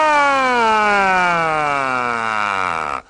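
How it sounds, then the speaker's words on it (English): A loud, steady wailing siren slowly sweeping downward in pitch for about three seconds, then cutting off abruptly. "The sirens faded away."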